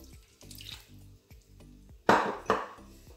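Orange blossom water poured into a chebakia dough mixture that already holds oil, a soft liquid trickle close by, broken by two sharp splashing impacts near the end, with no talk.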